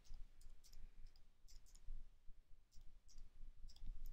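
Mouse clicks on a computer while editing template text, quick light ticks in pairs and small clusters, close and clear over a low background hum, with no voices.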